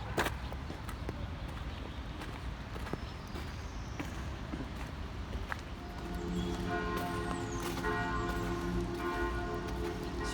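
Bells of a basilica in Brussels ring out in the distance over outdoor bustle and hoofbeat-like clopping, growing fuller and more resonant partway through.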